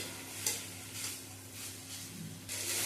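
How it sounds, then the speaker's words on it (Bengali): Ginger masala sautéing over a low-medium gas flame, a soft steady sizzle with a few spoon-stirring scrapes and pan knocks, close and fairly quiet with no talking. "এবারে গ্যাসের স্টেমটা লো টু মিডিয়ামে রেখে কষিয়ে নেব আদার কাঁচা গন্ধটা চলে যাওয়া পর্যন্ত কষিয়ে নিতে হবে"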